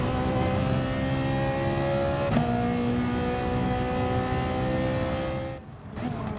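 A McLaren race car in the Gran Turismo Sport video game holds a loud, steady engine drone, shifts up with a sharp pitch change partway through, then the engine note dips briefly before picking up again.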